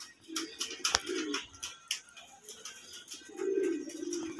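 Pigeons at a farm coo in low, soft bursts while sharp wing flaps and clatter break in now and then, close by and without talk.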